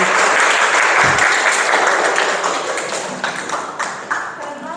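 A class of students claps together at the end of a school lesson, loud and dense at first, then thinning into scattered claps toward the end.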